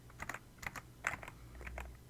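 Light clicking keystrokes on a computer keyboard come in a short, irregular run of taps over a steady low hum, quiet and close, with no voices.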